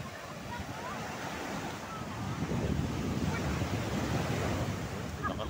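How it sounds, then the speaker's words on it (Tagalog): Strong ocean waves at Urbistondo Beach in La Union, a steady roaring surf with wind buffeting the microphone, growing a little louder midway and continuing without pause. "alon ay"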